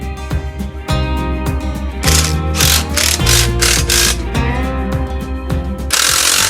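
A sawmill's 14-foot blade spins at 5,000 RPM with 7/8-inch tooth spacing while cutting wood. The loud, dense mechanical roar pulses with repeated bursts of bright, hissing cutting noise.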